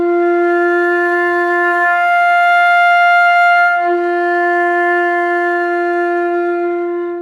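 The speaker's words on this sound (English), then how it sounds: "So we're going to start with the F and then we're going to play up to the second register F and then back down again." Flute sustaining long F tones, starting on the low F and rising an octave to the second-register F, a steady, clear and pure tone held alone without pauses.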